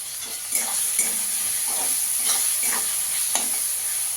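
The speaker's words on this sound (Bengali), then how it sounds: "টমেটোটা দিয়ে ভালো করে কষিয়ে নেব।" Chopped tomato with salt sautéing in a pan for paneer pulao, a steady close sizzle with repeated scraping stirs of the spoon at irregular intervals, no voices.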